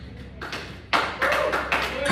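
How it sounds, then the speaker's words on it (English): A church congregation claps in uneven bursts of hand claps that grow louder after a quiet start, with voices mixed in beneath the clapping. "Can we clap for Jesus?"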